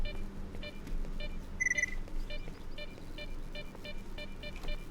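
Electronic beeps in the game S.T.A.L.K.E.R., short repeated bleeps spaced through the clip with one brighter cluster near the middle, over a low ambient game hum.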